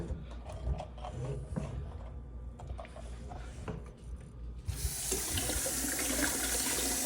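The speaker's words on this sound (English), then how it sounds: "Next steps, top up to 6 gallons using cool, clean water." Cool tap water pours into a sanitized fermenter to top up an ale batch to six gallons, a few clanks and handling sounds first, then a loud, steady close-up rush of filling water.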